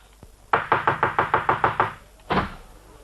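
Firm knocking on a wooden door in a radio drama: a brisk run of about eight even raps, then a pause and one more heavier knock, close and loud.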